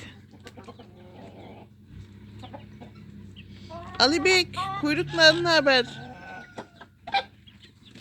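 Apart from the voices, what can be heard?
free-range chickens clucking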